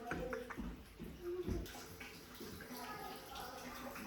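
Shower water running in an upstairs bathroom of an 1890 Victorian house, flushing mineral and iron buildup from old pipes; a steady wash of flow under intermittent speech and small clatters.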